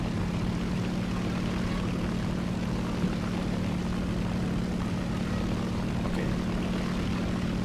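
Steady, loud drone of a Swedish J21 propeller fighter's engine in a video game, an unbroken buzzing hum sustained throughout with a brief click near the middle and one short spoken word.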